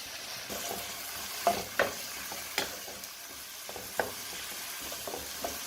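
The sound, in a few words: vegetables sautéing in a pan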